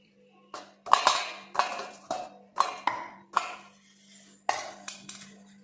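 Peeled boiled potatoes mashed with a metal puran masher in a vessel, producing about eight separate clanking knocks at an irregular pace, close and clear against a faint steady hum.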